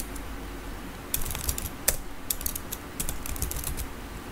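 Values are typed into an Excel spreadsheet on a computer keyboard, a quiet run of irregular key clicks in small bursts over a low background hum, with no talking.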